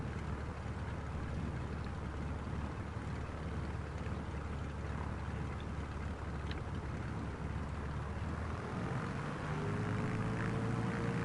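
Airplane engine drones steadily in a flight simulator, a continuous low hum that holds at a faint, even level and shifts pitch slightly near the end.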